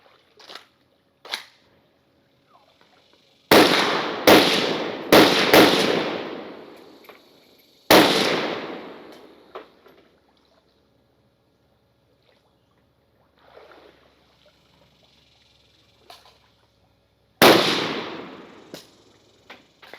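A Polish PAC Pioneer Sporter AKM rifle fires after being submerged underwater: about six loud, sharp shots with ringing decays come in irregular pairs and singles, separated by quiet gaps, with a couple of fainter clicks early on.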